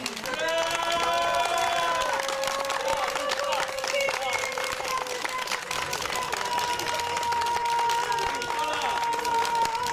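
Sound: applause

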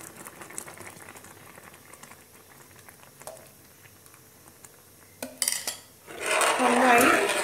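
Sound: jaggery payasam boiling in a bell-metal urali

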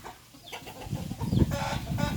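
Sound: Burmese chicken clucking

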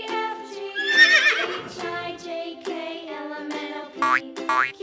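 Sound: horse neighing

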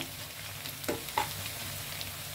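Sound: onions frying and being stirred in a pan

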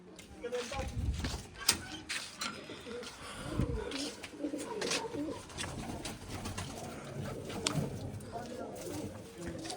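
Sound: pigeons cooing

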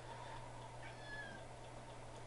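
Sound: pet cat meowing

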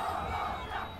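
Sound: Colombia fans' crowd noise in Pro Evolution Soccer 2018 video game

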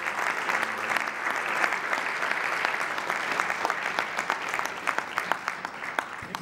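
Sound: audience applause

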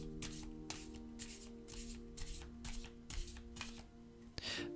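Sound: drawing cards from a tarot deck

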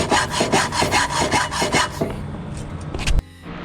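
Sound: filing edges of cut aluminium air intake pipe

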